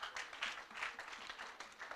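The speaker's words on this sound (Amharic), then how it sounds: "ጭብጨባ ሓንሳእ ጭብጨባ ነዘቓል" Applause from a church congregation, a steady, fairly faint wash of many hands clapping with no pauses, heard from some distance.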